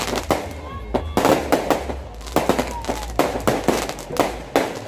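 Fireworks at a village wedding mehndi celebration crack and pop in quick irregular bursts, loud and close, with some whistling streaks and a low rumble between blasts.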